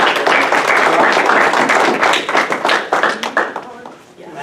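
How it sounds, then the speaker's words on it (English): An audience at a public history careers talk applauds in a warm burst of clapping that stays dense for a few seconds, then thins into scattered claps as it fades out. "Let's give her a round of applause."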